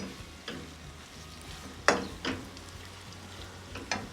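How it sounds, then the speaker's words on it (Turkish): Oil sizzles softly under a few scraping stirs of a spatula through diced potatoes in a pan on a wood-burning kitchen stove, with sharper clinks now and then. "Bu şekilde ben bunu böyle kavuracağım şimdi."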